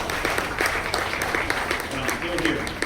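Audience applause at a Sony camera launch event, a dense patter of clapping heard fairly faint and steady, with scattered sharper claps standing out.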